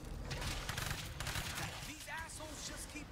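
Shotgun blasts in the zombie survival game State of Decay 2, several sharp, loud bursts in quick succession over the first second, followed by softer game sounds and chirps.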